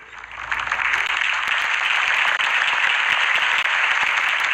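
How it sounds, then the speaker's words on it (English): A large crowd at a political rally in a Batman video game applauds steadily and loudly throughout, a dense wash of clapping with faint cheering mixed in, no speech over it. "If only Mr. Wayne, my campaign's largest backer, could have heard that applause"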